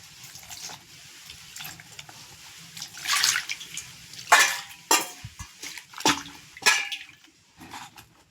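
A palm fruit being washed with water, with irregular splashes and pouring bursts against a vessel alongside a few clinks, close by and moderately loud, without any talk.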